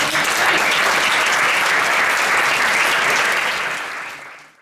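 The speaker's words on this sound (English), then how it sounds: "I think we have a big applause now" Audience applause at a FameLab Basel 2023 science-communication semi-final, a loud, dense, steady ovation from a full hall that carries on without a break, then fades out near the end.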